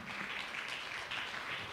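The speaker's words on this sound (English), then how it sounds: "Please clap louder for him." Audience applause at a business summit, a steady wash of many hands clapping throughout, fairly faint and continuous with no voices on top.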